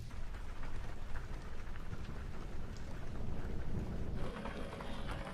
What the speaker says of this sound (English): The rain is picking up for sure.